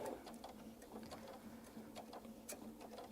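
A sewing machine runs a quarter-inch seam on a quilt block, a quiet, fast, even rattle of stitching under a low motor hum.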